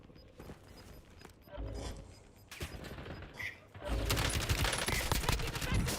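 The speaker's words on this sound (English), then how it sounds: "Taking effective fire." Gunfire in Warzone, a battle royale shooter, with scattered distant shots and rattling bursts growing into heavy, sustained automatic fire, while voices talk over it.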